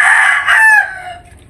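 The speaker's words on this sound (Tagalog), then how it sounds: "yan naman yung mga manok natin" A rooster crows loudly and close by, a single drawn-out call that rises and then trails off.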